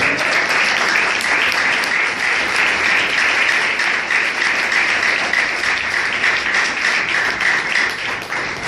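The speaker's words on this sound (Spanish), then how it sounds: "Denle palmas al Señor" Church congregation applauding together during a Spanish-language sermon, a dense, steady wash of many hands clapping that holds loud and even throughout, with no voices over it.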